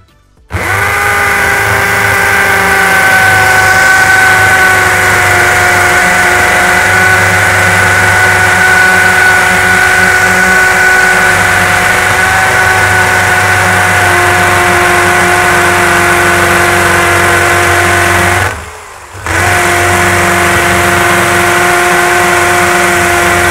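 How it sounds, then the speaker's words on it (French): Loud, steady whine of a Bosch Professional GSB 18V-21 cordless drill in hammer mode at maximum speed, boring into a concrete block, running continuously with one brief dip near the end before it picks up again. "le mode percussion sur le parpaing, donc le bloc en béton"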